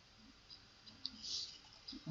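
A few quiet computer mouse clicks on a desk, short sharp ticks spaced irregularly over a couple of seconds, faint and close, with no talking.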